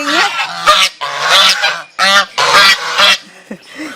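Ducks by the water give loud, close, nasal honking quacks in a rapid series of about six bursts, with short gaps between calls and no talking over them.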